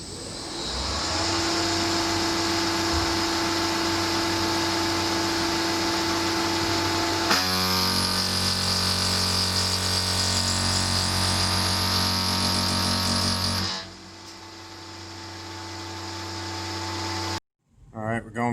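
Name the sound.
PM30 milling machine cutting metal at 5400 RPM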